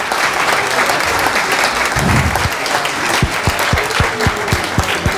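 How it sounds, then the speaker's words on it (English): Audience applause for panel members at a volleyball coaches convention panel discussion: a sustained wash of clapping from a crowd, steady and fairly loud throughout, with sharp individual claps standing out toward the end. "they need a huge round of big applause"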